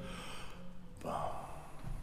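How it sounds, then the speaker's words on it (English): A conductor demonstrates breathing in before playing, as with a wind instrument: a short audible inhaled breath, close and soft, following a quiet moment of low room tone. "Just breathing like this."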